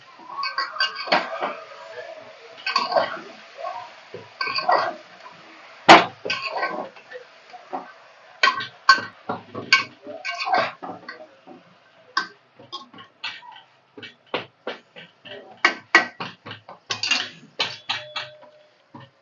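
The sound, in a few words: stirring chicken soup in a pot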